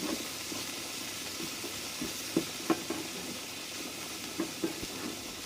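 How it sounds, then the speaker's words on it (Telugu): Amaranth leaves frying with turmeric and salt on a medium flame, a quiet continuous sizzle with occasional soft stirring clicks, heard alone without talk. "ఒక చిటికెడు పసుపు, ఒక చిటికెడు ఉప్పు వేసుకొని అంతా బాగా కలుపుకొని మీడియం ఫ్లేమ్లో ఫ్రై చేసుకుంటున్నాను."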